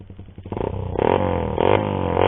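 A motorcycle fitted with a Daeng muffler pipe and TMX elbow revs in close, loud bursts, the engine climbing and dropping in pitch several times with some mechanical clatter.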